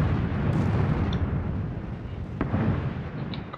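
Bombardment in the PUBG (PlayerUnknown's Battlegrounds) video game: a loud, continuous low rumble of blasts with a sharper crack partway through, rolling on without a break and with no voices over it.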